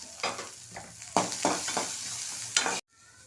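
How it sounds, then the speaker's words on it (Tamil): Large onions go into hot lemon oil in a pan, giving bursts of sizzling and frying with stirring scrapes, close and fairly loud, ending abruptly. "லெமன் ஆயில் ஹீட் ஆயிடுச்சு நம்ம பெரிய வெங்காயத்தை சேர்த்துடலாம்"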